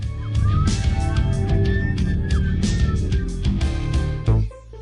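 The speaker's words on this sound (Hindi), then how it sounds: "पुलिस की गाड़ी अपना सायरन सक्रिय करती है।" A cartoon police car siren wails in rising and falling sweeps over a busy, layered animated soundtrack, then cuts off abruptly near the end.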